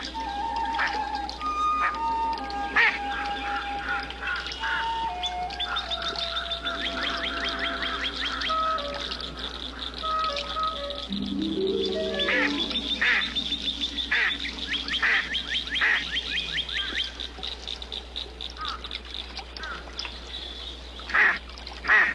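A large mallard duck with an injured wing calls in the wild, with a series of close, moderately loud quacks and honk-like notes repeating over steady outdoor background noise.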